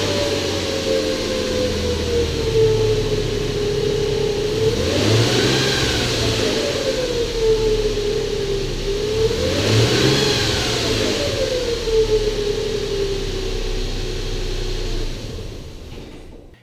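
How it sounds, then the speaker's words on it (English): A Nissan engine with a secondary timing chain rubbing on its tensioner piston gives a whining drone that rises and falls twice with revving, loud and close, then fades at the end. "you had basically your secondary timing chains rubbing directly onto the tensioner piston, and it sounded horrible"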